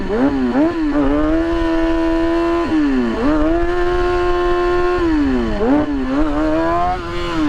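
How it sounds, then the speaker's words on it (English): A stunt motorcycle engine idles and revs with the clutch pulled in, its pitch repeatedly sagging and bogging between steady high holds, close and loud with no talk. "As soon as I pull in the clutch and it's a weird bog going on."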